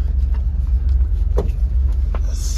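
A 1957 Chevy wagon with no power steering makes its first slow drive in 20 years, its steady low engine rumble close and continuous throughout, with a brief higher rise partway through.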